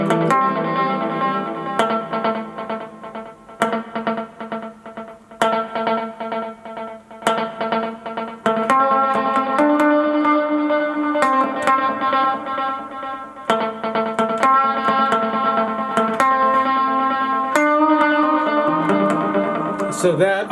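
Electric guitar through a Strymon Timeline pedal in pattern delay mode, with rhythmic strummed chords and single notes followed by repeats in a patterned subdivision, played alone at a steady, fairly loud level.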